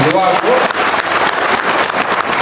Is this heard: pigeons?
no